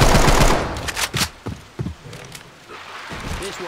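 An assault rifle in Left 4 Dead 2 fires a fast automatic burst followed by several short separate shots, loud and close, with bullet impacts in between.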